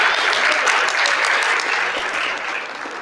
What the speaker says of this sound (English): Can we give Brenda another round of applause and thank you for her good work?